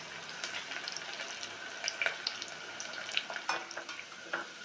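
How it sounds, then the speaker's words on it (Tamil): Sliced onions and curry leaves frying in oil for vegetable kurma, a crackling sizzle broken by light clinks and scrapes of a utensil stirring the pan. "இப்போ வெங்காயம் போட்டுக்கிறோம், கருவேப்பிலையும் போட்டுக்கிறோம். நல்லா பொன்னிறமாக வதங்கணும்"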